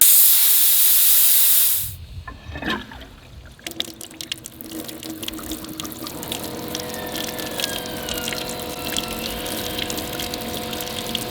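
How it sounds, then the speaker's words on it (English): A loud blast of compressed air through a garden hose cuts off, then sputtering, gurgling water and bursts of air spit and splash in irregular spurts, settling into steady running water. "I'll put the air chuck inside the garden hose and hit the button"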